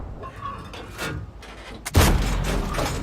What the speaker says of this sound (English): Now you can see these long-range shots, some of them going in, some of them are not.